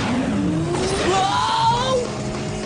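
Spider-Man's cartoon Spider-Cycle motorbike fires up and speeds off, its engine whining upward in pitch with squealing skids, loud and close under a busy animated soundtrack.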